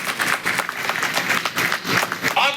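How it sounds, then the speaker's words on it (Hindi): Audience at a college annual day event applauding, a dense run of claps with uneven bursts and swells, fairly loud and close, with a few voices blended into the crowd noise. "ताली बजाओ"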